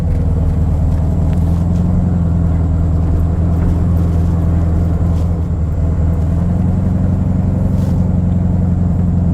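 A 1970 VW Beetle engine drives steadily with a loud, continuous air-cooled drone and rumble, shifting up through its gears, heard close from inside the car.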